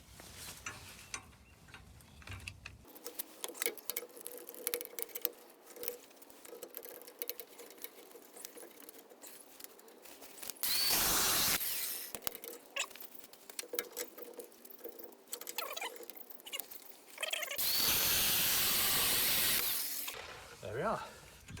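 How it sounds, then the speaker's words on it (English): A bolt on a boat trailer's bow rest, held in a clamp, is cut through with a power tool in two loud, harsh bursts, with quieter handling, clicks and scraping before and between them. "when we're cutting through these bolts they don't move around too much"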